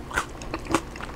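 Someone bites into crunchy oven-cooked onions that came out like onion fries, two or three quick close crunches within about a second, no talk.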